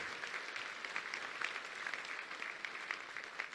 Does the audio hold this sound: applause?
yes